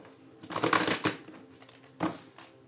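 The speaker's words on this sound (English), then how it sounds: "I'm going to shuffle these again" Tarot cards being shuffled by hand, a papery riffling burst near the start followed by a second shorter flurry, close and moderately loud with no talk.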